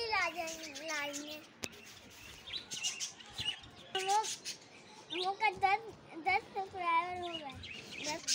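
Java sparrows chirp in quick bursts close by, mixed with a child's high-pitched voice talking over them.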